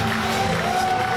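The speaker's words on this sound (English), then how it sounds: "there's a mixture of cheers and boos" A wrestling arena crowd at a tag team match roars in a dense wall of mixed cheering and booing, loud and sustained for a brief moment.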